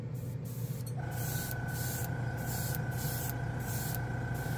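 An air compressor for spray painting miniatures with black chrome paint kicks on about a second in, then runs with a steady close hum and hiss.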